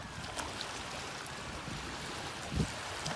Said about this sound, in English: Sound of waves are the best